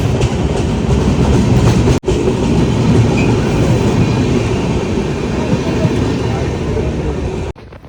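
The Tejas Express crosses on the railway near Anjani station on the Konkan line: a loud, continuous rolling rumble with rhythmic clatter of wheels and carriages. Two brief abrupt cuts break the sound.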